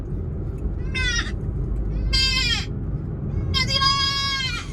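A man imitates a goat's bleat with his voice, giving three separate wavering, nasal calls spaced about a second apart, loud and close over a low background rumble.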